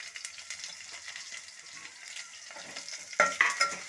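Potatoes and green chillies crackle and sizzle in hot oil for sabudana khichdi, with a steady fry and stirring, then sharper louder pops near the end.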